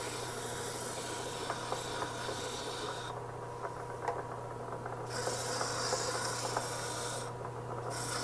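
A wood-turned ring sanded with coarse 50-grit sandpaper on a lathe, giving a continuous close hissing rub under a steady low motor hum, with the rasp brightening in longer strokes.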